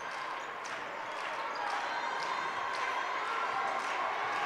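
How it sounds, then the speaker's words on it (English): A student section at a college basketball game, Spartans against Trinity, claps in a steady, dense wash that rises slightly, with a few faint ball or shoe sounds in the large gym. "As the student section starts clapping."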